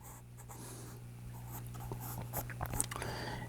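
A pencil scratches and scribbles across a scrap piece of paper while someone sketches a mouth, making soft, close, irregular strokes over a low steady hum.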